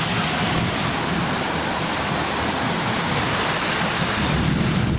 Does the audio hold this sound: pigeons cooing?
no